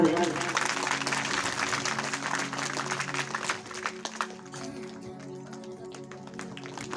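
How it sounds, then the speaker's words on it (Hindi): Audience applause at an outdoor Shri Ram Katha religious gathering in Barabanki, steady clapping for the first few seconds with music and a voice underneath, then thinning out as the crowd quiets. "मीठी मीठी तालियां बजाते हैं सभी लोग।"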